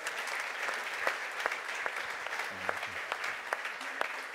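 Audience applause at a supply chain directors' gala, a steady dense wash of clapping from a large seated crowd with scattered sharper claps standing out, moderately loud and continuous throughout.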